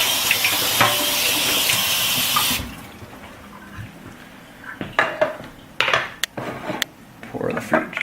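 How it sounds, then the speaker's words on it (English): Running tap water rinses the strainer of an Omega VRT400 vertical slow juicer in a sink, a steady loud gush for a couple of seconds, then scattered clinks and knocks of parts being handled under lighter trickling water. "so we can just rinse that"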